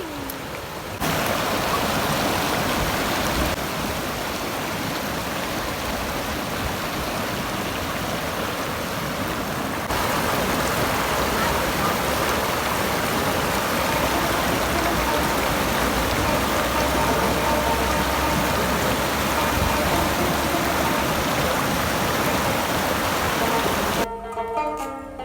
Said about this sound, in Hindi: तो यहाँ पे आप मेरे साथ एंजॉय करें दरिया के आवाज़ को।